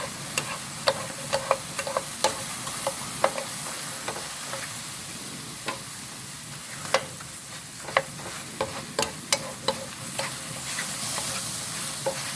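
Fresh shiitake mushrooms stir-frying in a dry pan with no oil, a continuous soft sizzle broken by frequent sharp ticks and scrapes of a utensil against the pan.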